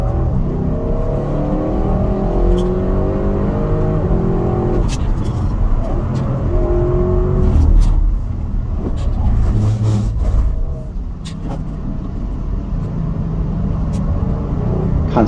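An RS6 Sledgehammer's factory sport exhaust, broken in after about 1,500 miles, roars loud and close through a race track lap, its engine note rising and falling with gear changes.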